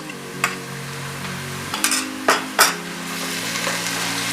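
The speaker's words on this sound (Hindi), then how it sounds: "अब हम इसमें अदरक लहसुन का पेस्ट डालकर इसे भी 2 मिनट हल्का हल्का फ्राई" Ginger garlic paste frying with onions in a pan, a soft sizzle under a few sharp scrapes and clinks of a spoon against the metal, close up with no talking.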